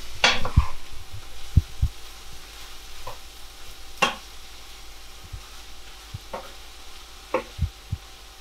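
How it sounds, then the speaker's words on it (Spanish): Eggplant cooks in a pan while being stirred, giving a low sizzle under scattered scraping knocks of a utensil against the pan at an irregular pace. "Removemos y seguimos cocinando hasta que las berenjenas estén bien hechas."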